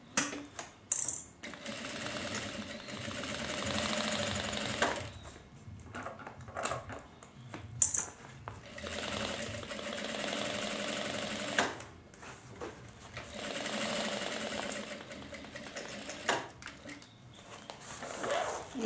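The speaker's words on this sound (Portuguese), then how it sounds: "Eu venho aqui, costuro essa base" Sewing machine stitching the base seam of a thermal lunch bag, running in repeated bursts with short pauses between them, fairly close and steady.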